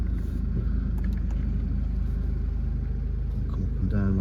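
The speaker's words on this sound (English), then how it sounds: "Just start the car up," Jaguar XF 2.2 diesel R-Sport Sportbrake with automatic gearbox, idling after start-up: a steady low engine rumble and hum, heard from inside the car, with faint clicks and a brief tone near the end.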